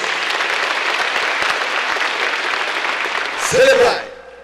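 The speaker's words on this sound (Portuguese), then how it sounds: "Salve de palmas para vocês." Church congregation applauding during a Portuguese-language service, a thick, steady wash of clapping that fades after about three seconds before a short voice and tone rise near the end.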